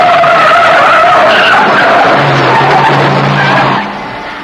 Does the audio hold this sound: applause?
no